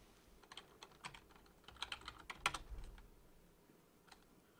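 A quiet burst of keystrokes on a computer keyboard as a password is typed into Excel, a dozen or so light clicks clustered in the middle, then one last tap after a short pause.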